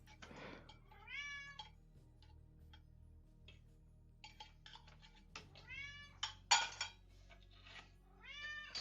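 A loud cat meows repeatedly in rising, drawn-out calls, with several distinct meows spread across the stretch, a sharp click near the end and faint background ticking.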